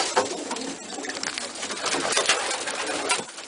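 Racing pigeons coo and flutter close by, a dense mix of soft cooing calls and rustling wings with no talking.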